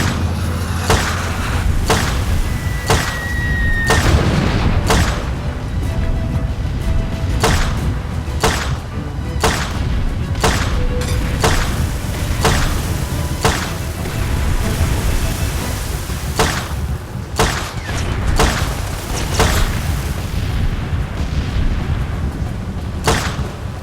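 Mortar shells burst repeatedly in the Far Cry 2 video game, a series of loud, booming explosions at irregular intervals over a continuous noisy battlefield background, with no talking.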